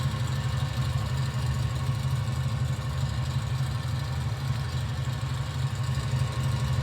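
Steady drone of an Aerolite 103 ultralight's small engine in Microsoft Flight Simulator 2020, a constant buzzing hum near idle on landing approach with throttle eased back, no talking.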